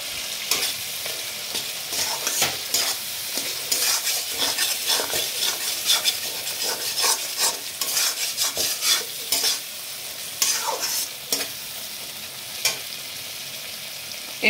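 Chopped tomatoes fry in masala while a spoon stirs them, making loud close sizzling with repeated scraping and clacking strokes against the pan throughout, with no talking.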